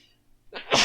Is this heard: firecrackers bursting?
no